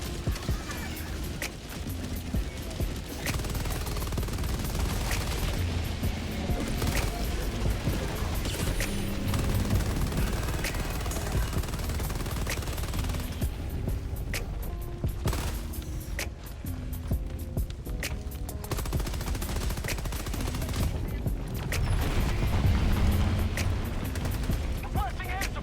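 Sustained gunfire in Helldivers 2 as players shoot at the Hive Lord, dense rapid bursts and booms running continuously and loudly throughout with no pauses.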